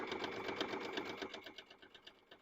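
Sewing machine stitching fabric placemats with a steady, rapid needle rhythm, close and fairly quiet, running alone without talk.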